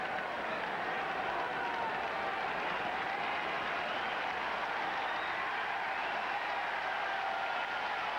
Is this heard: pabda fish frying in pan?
no